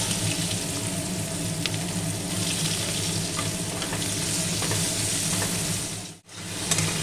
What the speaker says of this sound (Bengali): এই যে কুচিয়ে রাখা একটা পেঁয়াজ আমি তেলে লাল করে ভেজে নেব